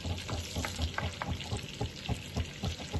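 Spices hitting hot oil in a pan for a restaurant-style shahi malai kofta gravy, giving a steady close sizzle and crackle with soft stirring scrapes and small irregular pops throughout.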